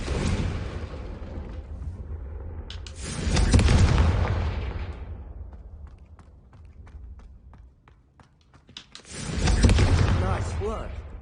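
Confringo spell explosion in the Hogwarts Legacy video game, two loud booming blasts a few seconds apart with rumbling tails, separated by quieter game sounds and some talk.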